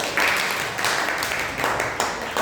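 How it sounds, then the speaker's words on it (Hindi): Students in a Class 10 classroom applaud, a burst of clapping from many hands in uneven waves that swells, dips and picks up again over a couple of seconds. "तालियां बजाना चाहिए"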